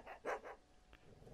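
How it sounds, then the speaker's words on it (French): A dog barking in a video game, with a quick cluster of three faint barks and a softer yip shortly after over quiet background sound. "il aboie."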